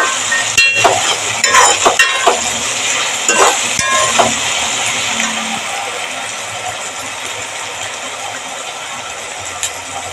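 Tomato mixture sautéing in a pan for a coconut-milk tomato curry, giving a steady broadband sizzle with a few brief clinks and stirring scrapes early on, then settling into an even, close frying hiss.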